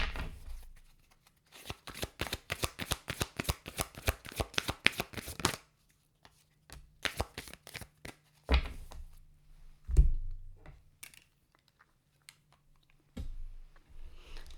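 Moonology oracle cards are riffled in a fast burst of crisp flicking, then tapped and shuffled in looser handfuls with thumps and pauses, close up and without talk.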